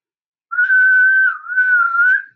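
One person whistles with the mouth, imitating a Sasquatch whistle: a clear, loud two-part tone, a long steady note dipping briefly then rising again, alone against silence.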